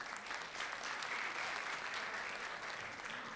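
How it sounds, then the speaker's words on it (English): A conference audience applauds a speaker's introduction, steady, dense clapping from many people heard from a distance, holding at an even level throughout. "Give him a round of applause"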